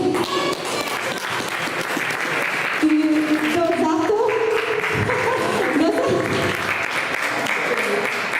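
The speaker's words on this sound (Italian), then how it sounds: "Un applauso" An audience applauds the musicians at a live Sardinian song performance, steady clapping filling the room while a voice speaks and faint sustained tones sound underneath.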